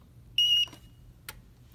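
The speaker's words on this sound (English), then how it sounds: "press and hold this until it beeps" A single high-pitched electronic beep from a UPS powering off, lasting about a quarter second, followed by a faint relay click, in an otherwise quiet room.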